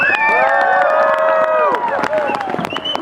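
Audience at a dance event cheering and shouting, a lively crowd roar with overlapping voices and whoops, loud and close, with scattered claps mixed in.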